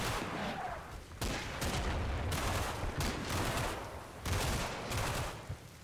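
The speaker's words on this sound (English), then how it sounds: "application of firepower, both from light mortars, squad small arms and light machine guns" Small arms and light machine gun fire in a World War II tactical war game crackles in dense overlapping bursts, with sustained rattling volleys and heavier thuds at a moderate distance.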